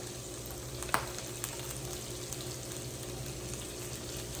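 Salmon fish cooks in a pan with a soft, continuous sizzle, faint and steady, with one brief clink early on and no talking.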